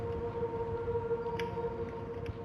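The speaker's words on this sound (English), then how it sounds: "I guess that's the sound of the Dark Star mercenaries." In the video game Dread Delusion, the Dark Star mercenaries give off a steady, wavering siren-like drone with a sustained tone, moderately loud and unbroken, with faint higher blips over it and no voices.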